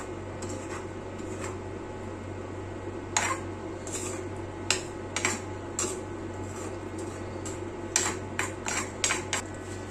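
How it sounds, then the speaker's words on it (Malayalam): Fish curry is stirred in a pot, giving scattered light clinks and taps of a spoon against the vessel over a steady low background hum, close and soft. "ഇങ്ങോട്ടൊന്ന് ചെറുതായിട്ട് ഇളക്കി ഒന്ന് മിക്സ് ചെയ്ത് കൊടുക്കാം"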